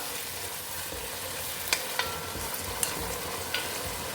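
Chicken fried rice with soy sauce being stirred in a hot pan, a steady soft sizzle with a few sharp clicks of the spatula against the pan, close and fairly quiet, no talk.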